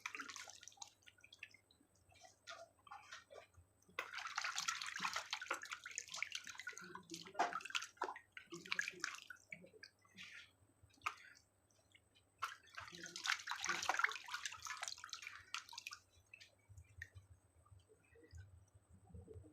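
Water splashes and drips as a face is washed with plain water after a coconut oil massage, with two bursts of close splashing and scattered drips between them, and no talking.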